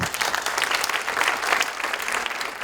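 Audience applause for Olympic swimmer Florent Manaudou at a Bpifrance event, dense steady clapping from a crowd filling the whole stretch without a break.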